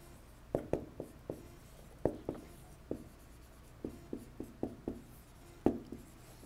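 Pen or chalk writing out an equation by hand during a fluid mechanics lecture, a series of short sharp scratchy taps and strokes in irregular bursts, close and fairly quiet, with no talking.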